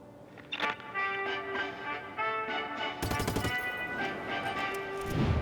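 Explosions destroying a watchtower in the video game Just Cause 3: a series of sharp blasts and crackling bangs over a sustained musical drone, building to a dense, loud cluster of detonations.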